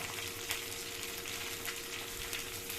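Onion, urad dal, chana dal and dried chilies fry in a pan for a radish chutney, a steady, dense sizzle with faint crackles and no voices.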